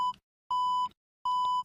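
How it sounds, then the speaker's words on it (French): A PenFriend audio labelling device gives three clean, steady electronic beeps, each a short tone with brief gaps between, quiet and close with nothing else heard. "on a 3 bips qui se font entendre"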